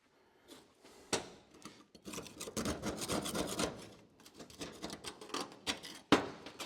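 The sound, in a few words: scraping grime off MGB SU fuel pump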